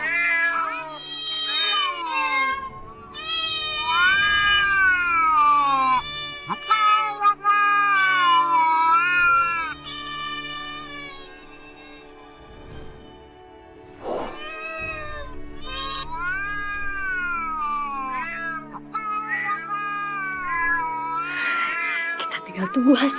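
A cat meows and caterwauls repeatedly, long wavering drawn-out cries close and loud, nearly continuous with a few short pauses, over a low steady background hum.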